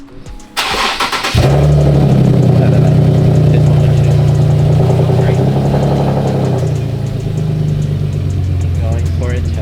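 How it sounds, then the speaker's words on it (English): A car engine cranks briefly, catches and settles into a steady, close idle that stays loud throughout. "He wants to hear the car start."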